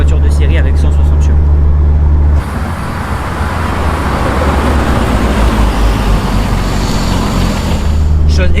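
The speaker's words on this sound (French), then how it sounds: "Je conduis une Renault 5 Turbo, la toute première" The engine of a first-generation Renault 5 Turbo production car with 160 horsepower roars loudly and steadily while driving, with a brief dip in the middle as it shifts.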